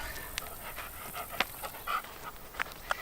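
A dog pants quickly in short, quiet breaths after a game of tug of war, with faint whimpers scattered through it, heard close in a quiet room.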